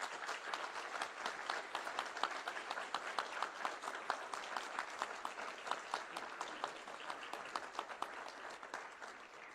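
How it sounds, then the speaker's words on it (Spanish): Audience at a book presentation for a historian's publication giving sustained applause, many hands clapping steadily with crisp individual claps standing out, fairly distant and even throughout. "Un fuerte aplauso, por favor."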